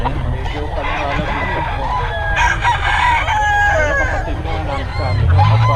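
Gamecock roosters at the Santos game farm, several crowing loudly and close among honks and clucks of other fowl, with people talking faintly in the background.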